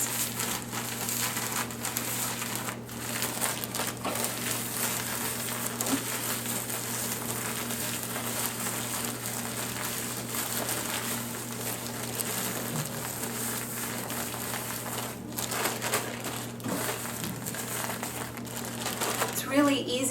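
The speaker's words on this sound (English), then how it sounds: "It's really easy to bread chicken breasts in a plastic bag, and then it's not quite as messy either." A plastic bag crinkles steadily while chicken breasts are breaded inside it, a continuous rustling texture under a constant low hum in a home kitchen.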